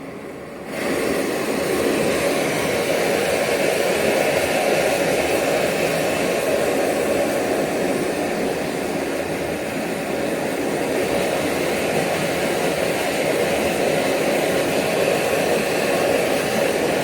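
An Edelrid Hexon gas stove running on an inverted canister with a silent damper gives a steady, even roar that starts abruptly and holds constant, close and loud, with no talking.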